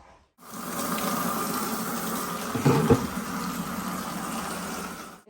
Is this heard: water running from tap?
yes